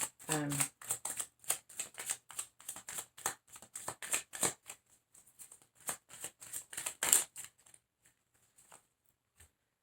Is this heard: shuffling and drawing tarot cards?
yes